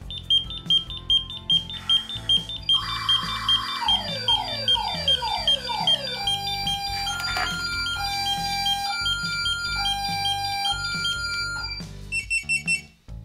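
A Compustar remote start car alarm (PRO series) blares loudly and continuously, cycling through steady beeping tones, rapid falling siren whoops and warbling chirps before cutting off abruptly at the end.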